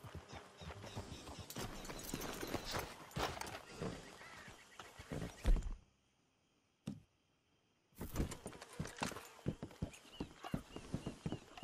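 Horse hooves clip-clopping in Red Dead Redemption II, steady close hoofbeats with gear clatter that stop for a couple of seconds of near silence, then resume at a walking pace.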